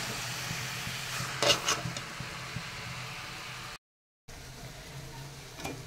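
Ghee and garam masala sizzling in a pot of khichuri as it is stirred, giving a faint steady fry hiss with a few scraping stir clatters, and a brief silent dropout partway through.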